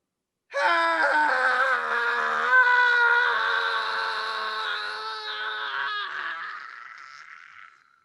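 A man imitates a long, drawn-out scream to mock a movie opening, one sustained wailing cry that starts abruptly, holds loud and slowly fades.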